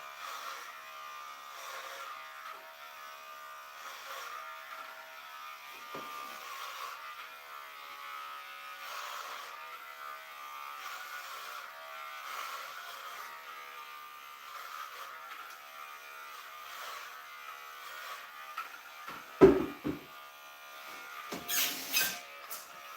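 Electric hair clippers buzz steadily and close up, running continuously while giving a buzz cut, with a few louder scraping bumps near the end.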